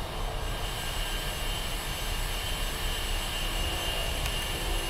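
A Ka-50 helicopter in the DCS: Black Shark 2 simulator taxiing, its engine and rotor making a steady, even whine and rumble that holds at constant loudness without talk.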